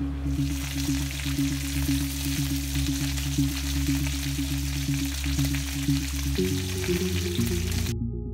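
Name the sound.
duck confit cassoulet simmering gently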